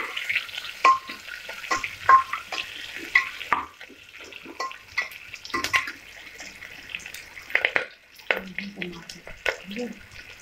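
Sliced green chillies fry and get stirred in a pan of mutton biryani masala, with bursts of sizzling and scraping spatula strokes close by, coming and going in uneven pulses with a pause midway.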